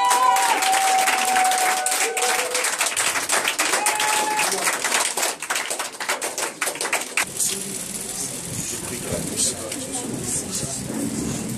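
A congregation at a deliverance church service cheers and applauds Jesus, a dense wash of clapping and crowd noise that runs steadily throughout, with a voice speaking over it.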